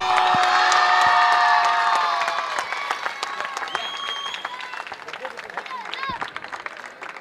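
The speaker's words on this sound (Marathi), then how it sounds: "जोरदार टाळ्या एकदा पुन्हा एकदा होऊन जाऊ द्या" A crowd at a cricket tournament prize distribution gives a burst of loud clapping and cheering that gradually thins out, with voices and scattered shouts continuing underneath.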